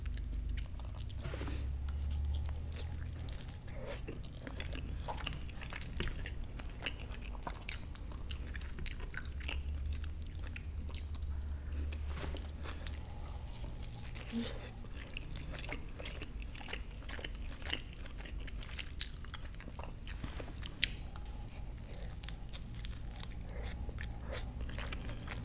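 Steady close-up chewing and biting of a breakfast burrito with guacamole: soft, wet mastication with crunchy bites repeating throughout, loud and intimate with no talking.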